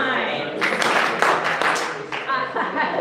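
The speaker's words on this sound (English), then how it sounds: "Clap 3 times." Audience clapping in three separate bursts at a meeting, each burst of many hands close together and fairly loud, with a brief pause between them.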